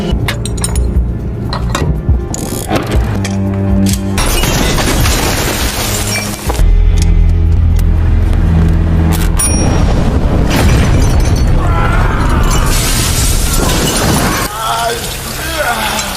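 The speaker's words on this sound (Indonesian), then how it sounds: "Setibanya di dalam pabrik, Juki disambut oleh ledakan granat" A grenade explodes inside a factory during an action film, bursting with loud booms and shattering, clinking debris amid a dense, continuous roar of other action noise.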